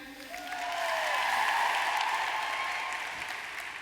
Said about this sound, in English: Clap, ladies.